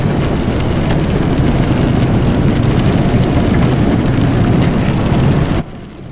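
Heavy rain pours down in a dense, loud, continuous roar with no clear thunder, and it cuts off sharply near the end.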